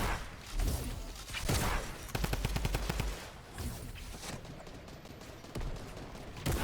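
Gunfire from a competitive video game rattles through a fast, dense series of shots, including a rapid automatic burst, loud and close with no clear speech.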